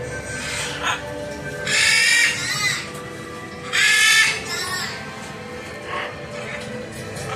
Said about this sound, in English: Pretty birdies.